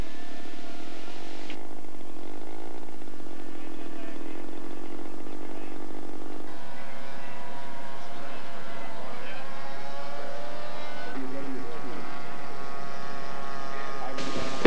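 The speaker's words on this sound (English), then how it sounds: "A level flyby, very steady, Terry." A scale model aircraft makes a steady level flyby at a model flying contest, its engine droning continuously and shifting in pitch as it passes, with a commentator's voice heard over it.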